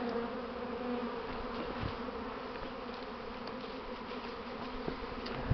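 A steady, dense buzzing of many honey bees close by at an apiary, continuous throughout with no voices.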